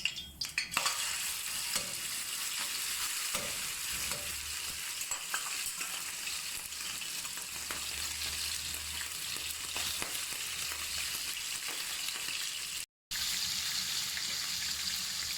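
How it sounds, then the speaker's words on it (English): Shrimp fry in hot oil in a pan, a steady close sizzle with crackling pops and occasional stirring scrapes throughout, continuing without a break. "So the shrimp has been frying for 5 minutes."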